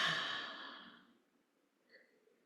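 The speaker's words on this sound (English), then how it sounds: "steady exhale." A single steady exhale during a yoga practice, a soft, breathy outflow of air that starts strongest and fades gradually over about a second, followed by quiet with a faint trailing sound.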